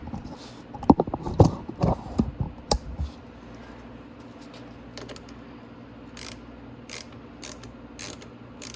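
Loosening a bolt on a Venom X22 125cc motorcycle with a ratchet: a quick flurry of close metallic ratcheting clicks, then scattered single clicks and taps after a pause.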